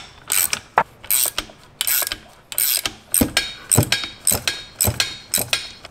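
A ratchet wrench loosens the 18 mm drive shaft bolts on a Cadillac ATS-V: about ten short bursts of close, loud clicking come in a steady back-and-forth rhythm, with no voices.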